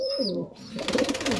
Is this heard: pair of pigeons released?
yes